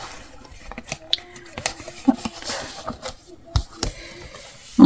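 Scissors snip scraps of paper for a scrapbook album, giving short irregular cuts and rustles close by, with a few quiet taps and paper handling between them.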